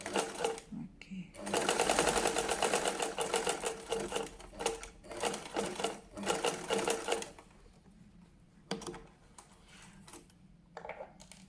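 A sewing machine stitches a men's shirt collar in steady buzzing bursts, loud in the middle then fainter with pauses, with a voice speaking over parts of it.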